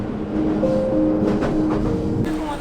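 A train pulls into Sannomiya Station in Kobe, Japan, its steady rumble filling the clip with faint wheel-on-rail clatter and a thin, sustained brake squeal.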